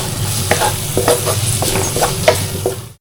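Chilies and onions fry together in a pan for a fish-head bharta, giving a steady sizzle with repeated scraping stir strokes, close and fairly loud, with no talking.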